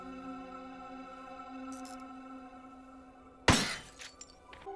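Glass crow shattering in the horror game Crow Country: one sudden loud, bright smash about three-quarters of the way through, over a steady humming tonal ambient drone, with small debris tinkles after.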